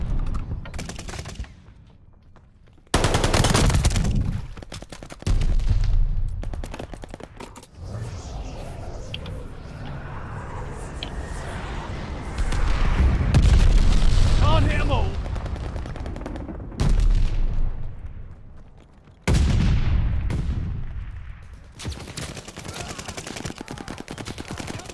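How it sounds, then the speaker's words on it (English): A glide bomb airstrike in a military shooter video game: loud explosive blasts and bursts of rapid gunfire recur across the span, with lulls between heavy booms and a long rumbling stretch in the middle. "Allied glide bomb. I got a little airstrike for him."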